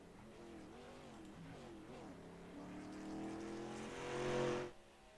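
Race trucks lap at Talladega, engines droning and shifting in pitch as they pass, with a louder swell near the end before dropping away. The sound sits faint and distant.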